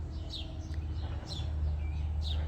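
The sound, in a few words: birds calling near a patio garden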